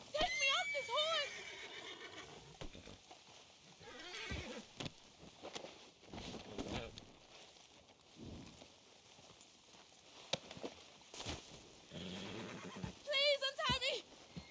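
A horse whinnies loudly at the start and again near the end, with scattered hoof clops and thumps in between and a voice speaking, in the video game Red Dead Redemption 2.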